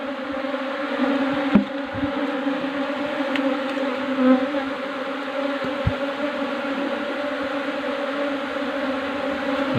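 Honey bees swarm around a wooden hive box used for beekeeping, giving a steady droning buzz throughout with a few sharp clicks and knocks on top and no talking.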